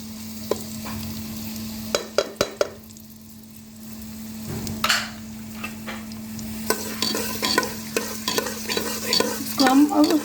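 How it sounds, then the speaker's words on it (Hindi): Onions dropped into hot oil for an aloo gosht gravy, a quiet steady fry broken by sharp clatters at the start, then a rising sizzle with busy stirring and scraping toward the end. "तो हम तेल थोड़ा गर्म हो गया, अब हम प्याज डाल रहे हैं।"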